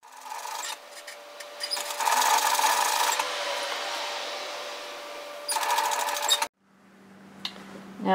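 Sewing machine stitching down a fabric sleeve seam on a puff sleeve top, with bursts of fast whirring that pause and restart before stopping abruptly, followed by a faint hum and soft handling noise.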